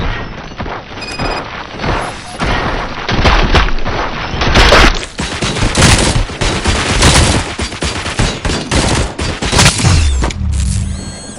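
Gunfire in the Robocop Rogue City video game: loud, rapid bursts of shots and impacts crackle continuously, with crashes and booms mixed in, alone without talk.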